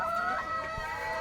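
Hens on a brown-egg poultry farm cluck and murmur continuously in a brief, steady stretch, moderately close with no talk.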